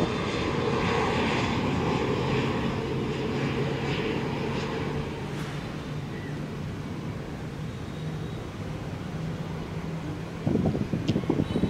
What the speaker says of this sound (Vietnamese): Bây giờ chiếc máy bay hạ cánh xuống đường băng 25 phải